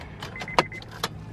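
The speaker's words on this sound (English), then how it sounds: "Look at how he turns off his car." A car is switched off in a short burst of quiet mechanical clicks and rattles, with one sharp louder click partway through and another soft click near the end over a low background hum.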